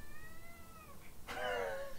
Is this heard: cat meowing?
yes